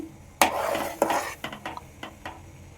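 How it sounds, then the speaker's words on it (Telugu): Cumin seeds fry in oil for a large batch of mango pickle while a spoon scrapes and clinks against the pan in a few sharp strokes over a soft sizzle, close and clear. "యాభై గ్రాముల జీలకర్ర కూడా తీసుకోండి ఆయిల్లో వేసేయండి ఒక టూ మినిట్స్ పాటు కలుపుతూనే ఉండండి"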